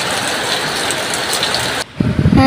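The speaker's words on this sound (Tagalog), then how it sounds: "Wala pa rin palang tigil yung ulan dyan." Steady rain pours down in a dense hiss for most of the clip, then cuts abruptly to a quieter scene with a few low knocks and faint tones.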